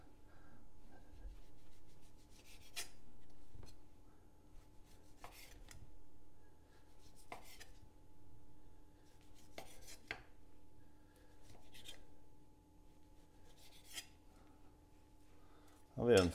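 A knife trims home-aged beef on a cutting board, making faint, brief scraping cuts at irregular intervals beneath a low steady hum while a person talks quietly.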